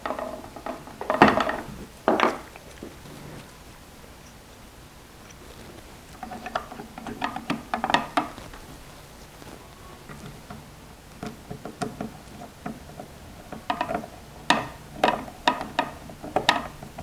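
Caps are screwed back down over the pawls of a Kromski harp loom, giving scattered small clicks, ratcheting ticks and scraping handling noises in short bursts, close up with no talk.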